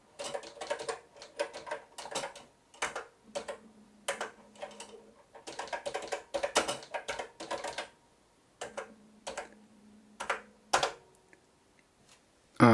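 Keys clack on the built-in keyboard of an MSX CF2000 all-in-one home computer from about 39 years ago, in close, clicky bursts of typing separated by short pauses, with a faint electronic tone under some passages.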